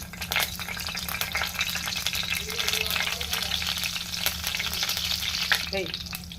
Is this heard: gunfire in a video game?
no